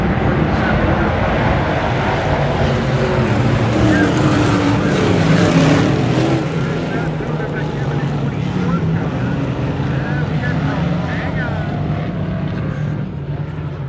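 Limited Sportsman race cars running hot laps on a track at a night race, a steady loud engine roar with wind buffeting, swelling then easing slightly as cars pass.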